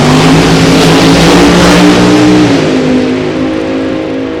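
A supercharged Pro Charge drag racing car, Les Weiss's machine, revs loudly and close, its engine roar steady with a harmonic drone across the whole stretch, easing slightly near the end.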